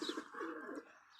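Soft cooing from an injured bird with an open neck wound, a few low rounded calls close by, with faint higher chirps in the background.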